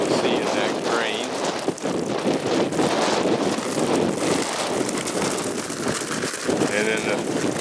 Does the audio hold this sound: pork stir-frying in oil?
no